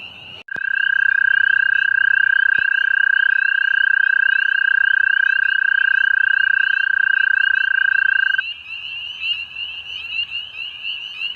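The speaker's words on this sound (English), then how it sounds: "Got a male American toad here making his mating call." A male American toad gives its mating call on an early spring evening, a loud, close, steady high trill held unbroken for about eight seconds before it stops, with other frogs calling faintly behind it.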